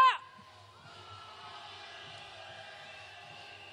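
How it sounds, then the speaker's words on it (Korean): A crowd at a candlelight march in heavy rain lets out a sustained cheer and shouting after a brief loud call at the start, the voices steady and moderately distant throughout. "서로에게 한번 응원의 함성 질러볼까요? 함성 시작!"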